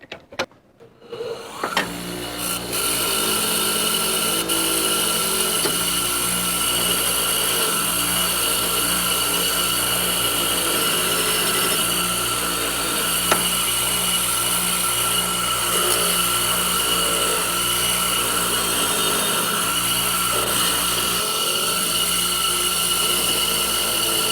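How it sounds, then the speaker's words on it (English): Bench wire wheel cleaning up a forged metal holdfast, a motor spinning up then a steady loud whirring buzz with continuous scratchy contact noise throughout. "I'm going to go over the wire wheel and just clean up the rest."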